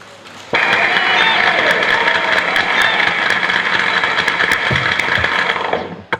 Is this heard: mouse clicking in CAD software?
no